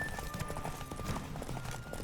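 Horse hooves galloping in The Witcher 3, rapid rhythmic clip-clop beats pounding continuously at close range, layered over game ambience with no speech.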